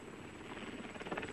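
A helicopter near the Brèche de Roland at Gavarnie makes a faint, steady rotor throb and engine drone with a slight pulsing beat, set in a snowy mountain setting.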